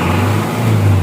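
An Isuzu 4HL1 diesel engine being revved, a loud close low-pitched drone that rises slightly in pitch toward the end of a brief moment.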